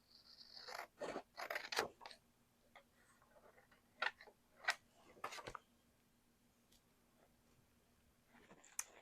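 Scissors snip through an upholstery fabric sample in a series of close, sharp crunching cuts that come in short bursts with pauses, over a faint steady hum.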